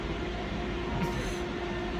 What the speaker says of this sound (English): Yeah, because we're on the train.